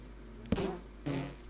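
Two short bursts of bee buzzing in the Bee Business video game, a faint low drone rising briefly twice against a quiet background.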